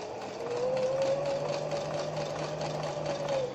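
A sewing machine runs steadily while stitching a rolled ruffled hem with a presser foot, giving a continuous close, even mechanical whir that holds for several seconds before easing off.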